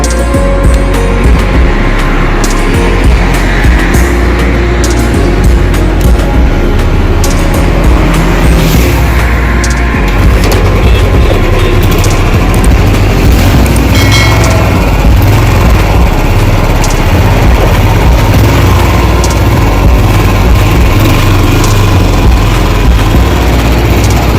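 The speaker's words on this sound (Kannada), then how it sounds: "ಗಾಡಿ ಒಂದ್ಸಲ ಸ್ಟಾರ್ಟ್ ಮಾಡಿ ತೋರಿಸ್ತೀನಿ ನೋಡಿ ನಿಮಗೆ ಸೌಂಡೆಲ್ಲ" A Royal Enfield Standard 350 motorcycle engine runs loud and close, a continuous dense thumping rumble with no pauses or talk.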